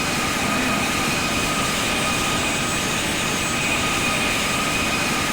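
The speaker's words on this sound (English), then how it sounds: "let's go ahead and get this plane landed for the second time" Jet engines of a Hawaiian Airlines Boeing 717-200 in the Infinite Flight simulator, a steady loud broadband roar with a faint high whine, continuous throughout with no talking.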